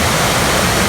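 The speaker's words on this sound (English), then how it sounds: "here's the stream that feeds the lake we just showed you" High, rain-swollen stream in Virginia rushing down toward the lake it feeds, a steady close-up roar of broadband water noise with no talk over it.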